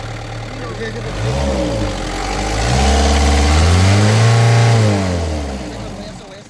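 The engine of a 4x4 truck with a manual gearbox runs close by, swelling from idle into a strong, sustained rev and easing back down, while someone talks over it.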